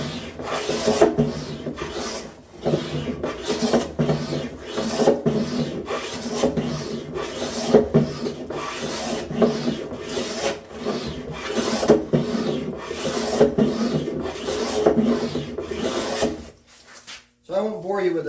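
Coarse hand tool rasps steadily across walnut in repeated rhythmic strokes, taking thick shavings while working a bookcase side, close and loud, with brief pause near the end.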